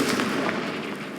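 A Confringo fire spell explodes in Hogwarts Legacy, a brief dense crackling burst with a rushing, fiery wash that stays loud and fairly close throughout.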